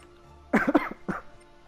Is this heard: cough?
yes